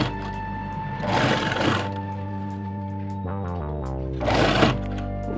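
A sewing machine stitches a piping strip onto a blouse, running in steady continuous bursts with a loud whirring motor, pausing briefly between runs, close up and with no talking.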